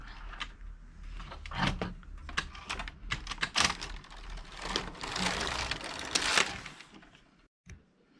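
A Passap E6000 knitting machine carriage drawn across one row, producing a rapid mechanical clatter of clicks and rattles for several seconds before falling quiet, close up.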